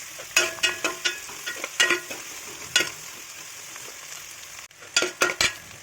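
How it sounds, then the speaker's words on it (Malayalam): Onions, green chillies and curry leaves sauté in a pan for a Kerala-style ash gourd and drumstick curry. A steady sizzle runs throughout, broken by a series of sharp spoon scrapes and clatters of stirring, close and fairly loud. "ഈ സവോളയും പച്ചമുളകും കൂടെ അതിലിട്ടൊന്ന് വഴറ്റാം"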